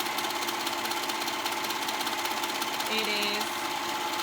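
A serger stitching a maxi dress seam, its fast steady motor whir running continuously up close, with a brief spoken phrase over it.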